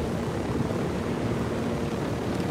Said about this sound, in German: Ja, das ist unser Heli, den wir brauchen